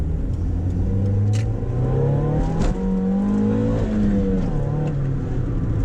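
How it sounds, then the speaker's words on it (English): A Mazda MX-5 Miata on stock exhaust raspily revs and shifts while being driven, the engine note climbing and falling through gears, heard steadily from inside the car without talk. "Nice little rasp out the exhaust. It's all stock exhaust and it just sounds really nice."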